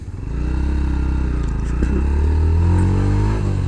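A Yamaha FZ S Version 3.0 BS6 motorcycle engine pulls hard through the gears toward 6000 RPM, a loud, close, steady drone whose pitch climbs and then shifts with each gear change.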